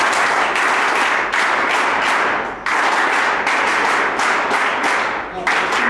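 Students at an ITI college function in Ambernath clap loudly for themselves in a dense, close burst of applause, broken by brief dips and restarts as the clapping swells again.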